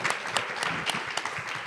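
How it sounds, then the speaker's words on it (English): An audience applauding panelists at an event, dense steady clapping from many hands, fairly close and continuous. "please give a huge round of applause to our panelists"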